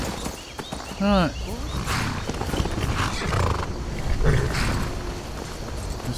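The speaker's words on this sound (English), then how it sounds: "There's still a horse there." In Skyrim, a horse lets out a short, clear neigh with a rising-falling whinny, accompanied by soft clopping hooves and rain-like ambience, while voices talk in the background.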